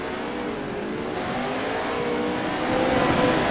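Pro 2 off-road race trucks roar steadily around a dirt track at Wild West Motorsports, engines droning loud and continuous with rising revs near the end.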